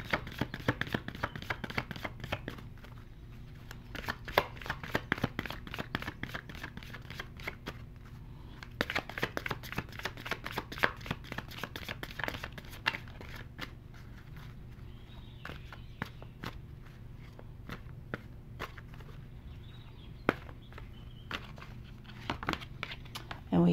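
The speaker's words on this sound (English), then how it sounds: "Now let's get something from the romance angel cards" A deck of romance angel oracle cards is shuffled by hand in long bursts of soft riffling and flapping, quiet and close, with brief pauses between runs against a low background hum.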